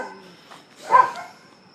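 Neighbour's dogs give a single bark or yip at mid distance, one short burst rising out of quiet background.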